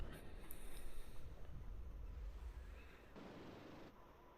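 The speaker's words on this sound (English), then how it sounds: "Artillery coming down in this top corner" Artillery fire in the video game WARNO rumbles as dull, low booms and a sustained roar, fairly faint and distant, with the rumble easing partway through.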